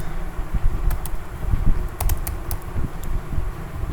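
Quick, irregular keystrokes on a computer keyboard, a handful of sharp close clicks clustered in short bursts over a low background hum.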